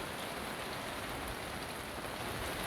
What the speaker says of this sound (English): Some rainy conditions here.